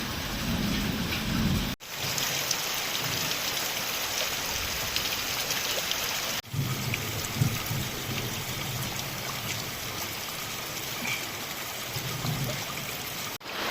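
Steady rain pours down during a thunderstorm in Palitana, with low rumbles of thunder rolling beneath the constant hiss and two sharp cracks breaking through.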